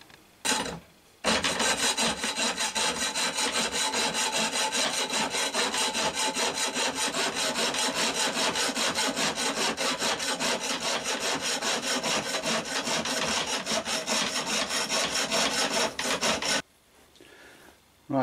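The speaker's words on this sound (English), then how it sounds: "and then a bit of fitting with a file" A hand file rasps back and forth along the sides of a knife handle, a loud, dense rhythmic scraping close by that runs continuously for about fifteen seconds before stopping.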